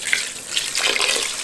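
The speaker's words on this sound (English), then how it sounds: "Yes, so I'll put water" Water pours into a pot holding fish for a village-style fish sauce, a steady close splashing trickle that swells slightly toward the end, with no talking.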